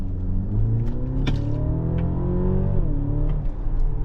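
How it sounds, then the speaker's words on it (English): A 2024 Mercedes-Benz GLC Coupe hybrid in sporty mode gives a continuous engine hum and drone from inside the cabin while driving. Pitch rises and then dips as the car changes speed, with a few faint clicks. "You hear the sound, the sporty sound is pretty cool."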